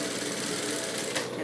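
A sewing machine stitches along the strap of a fabric motorcycle-style face mask, a steady close whirring hum that runs without a break.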